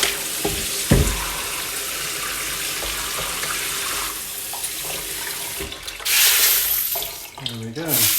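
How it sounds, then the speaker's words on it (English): Tap water running steadily into a sink as tumbled coins and jewellery found metal detecting are rinsed, a loud continuous splashing rush with brief gurgles and clinks toward the end. "Still quite a bit of dirty water coming out"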